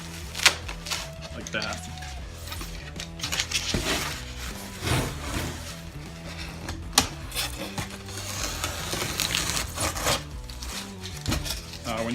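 A blade cuts through foil-faced foam garage door insulation board with scratchy, crackling strokes that recur across the span, joined by occasional sharp snaps and a voice talking nearby.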